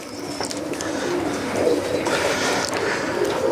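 Pigeons coo close by in a pigeon-fancier's loft, soft overlapping rolling calls repeating steadily under a busy background with faint chirps.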